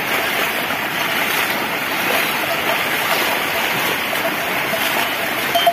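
The flooding Narmada River in Madhya Pradesh rushes in a steady, loud roar, heavy churning flow that goes on without a break, with faint voices mixed into the noise.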